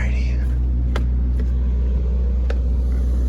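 An RV bus engine idles after refuelling, a constant low rumbling hum that stays steady and close throughout, with a few faint clicks over it.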